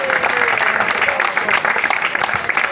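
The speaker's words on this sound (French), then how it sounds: "Monsieur Edou Amboué Henri, Paul, que je vous demande aussi d'encourager l'applaudissement." An audience at a Union Nationale political gathering in a small market applauds, a loud, dense and steady wash of clapping filling the whole stretch, with voices faintly mixed in.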